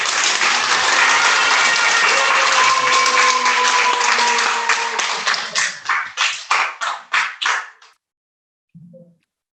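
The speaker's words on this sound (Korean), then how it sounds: "박수를 크게." A church congregation at a group wedding ceremony claps loudly in a dense burst that thins into a few rhythmic unison claps, then stops, with a faint voice at the very end.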